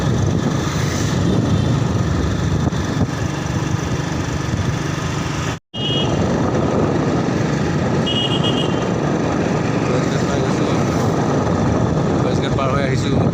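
A motorbike loaded with cut taro rides along with a constant engine drone and rushing wind noise, loud and unbroken apart from one brief dropout midway.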